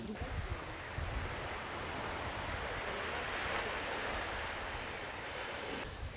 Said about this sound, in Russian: На берегу моря.